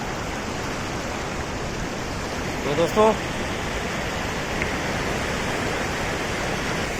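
Waves and currents of the Narmada River at Bhedaghat roar steadily and close, a broad continuous wash with a brief spoken word cutting in partway through.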